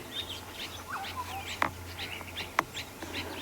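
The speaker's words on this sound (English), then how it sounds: "There's quite a lot of bird activity going on here." Wild birds call through the Sabi Sand bush at sunrise, with overlapping chirps, whistles and short warbles at moderate distance, two sharp clicks, and a faint low hum beneath.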